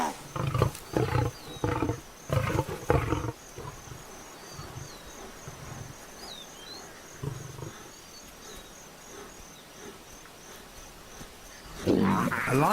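A lioness in the Tanzanian wild lets out several loud, close roaring bursts in anger at hyenas, then falls quiet under a backdrop of insect buzz before one more burst at the end.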